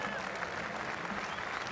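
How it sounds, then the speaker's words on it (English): England cricket supporters applaud at a match, a faint, distant wash of steady clapping from the crowd, with a commentator talking over it. "To the applause of the knowledgeable and paying attention England supporters"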